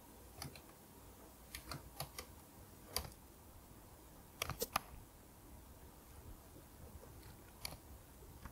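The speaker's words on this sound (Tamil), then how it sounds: "எக்ஸாம்பிள் சென்டென்ஸ் வந்து எப்படி இருக்கும் அப்படின்றத நான் இங்கே டைப் பண்ணுறேன்" Keys on a computer keyboard clatter quietly in scattered bursts and single taps, pausing between short runs, recorded close in an otherwise hushed room with no talking.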